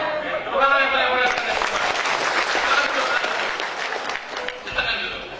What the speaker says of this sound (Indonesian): Tepuk tangan yang paling mulia.